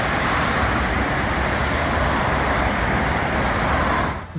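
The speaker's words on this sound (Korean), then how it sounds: "북한의 소음 현장인 자동차 전용 도로 옆에서 한번 테스트를 해봤습니다" Dense, steady roar of road traffic right beside a North Korean-border-area expressway, loud and continuous with no break, tailing off abruptly at the very end.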